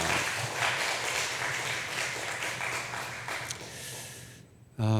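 A church congregation applauds the choir, a steady broadband wash of clapping that fills the room and fades out near the end before a brief low thump.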